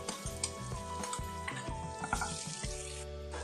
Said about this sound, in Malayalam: ഉണക്കമുളകും ചേർത്ത് കൊടുക്കാം. എന്നിട്ട് നന്നായി വഴറ്റി കൊടുക്കാം.